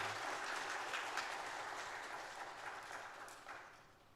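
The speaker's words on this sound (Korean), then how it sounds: "우리 하나님께 영광의 박수 돌립니다" A church congregation during a Sunday worship service gives a round of applause, a soft, distant wash of clapping that slowly fades.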